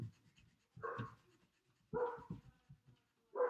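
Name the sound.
dogs barking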